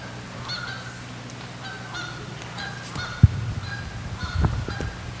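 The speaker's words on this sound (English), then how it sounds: "You got it. It's a Canada goose." Repeated honking calls of Canada geese sound moderately loud and slightly distant in a loose, irregular series, with a couple of low thumps mixed in.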